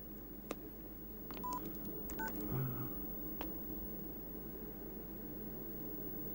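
A telephone is dialed indoors in a Jackie Chan film scene, with a few short tones and clicks heard one after another over a steady low hum.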